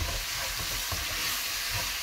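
Onions and spices sauté in a pan, a dense, steady sizzle and frying hiss with soft stirring scrapes, close and continuous with no talking.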